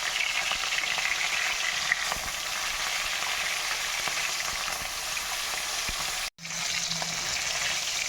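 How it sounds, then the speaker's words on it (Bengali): Fish heads rubbed with salt and turmeric sizzle and crackle in hot oil in a pan, a loud steady frying hiss with brief stirring, cut once by a short gap. "এখন মাছের মাথাগুলোকে ভেজে নেব"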